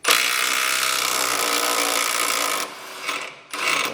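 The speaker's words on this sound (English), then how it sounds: "We're going to put an impact gun on this side and hold the other side with a wrench and take that off." An impact gun loosens a tight lower strut nut on a 2000 Toyota 4Runner during a Bilstein 5100 shock install, a loud, sustained whirring rattle that runs steadily for over two seconds before cutting out and briefly resuming.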